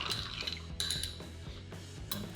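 Spoon clinking against glass while stirring a Little Giuseppe cocktail of Cynar, bitters and lemon juice, a steady run of close, light metallic chinks and swirling liquid.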